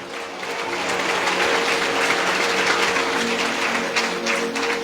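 A church congregation at a healing service gives a strong round of applause, many hands clapping together in a full, sustained burst that builds quickly and holds steady throughout, with a faint tonal hum beneath.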